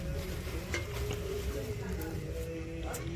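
Spices for an eggplant and potato curry temper in hot oil in a pan, a steady sizzle joined by stirring and light clinks of utensil on metal, with a voice talking over it throughout.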